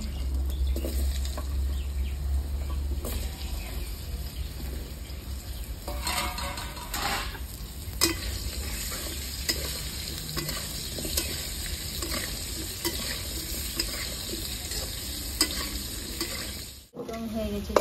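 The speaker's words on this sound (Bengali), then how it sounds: "এই তেলে আমি আলু ভেজে নেবো" Potatoes frying in oil left over from frying rohu fish, in a kadai in a village kitchen, with a steady sizzle and occasional scraping stirs and utensil clinks throughout.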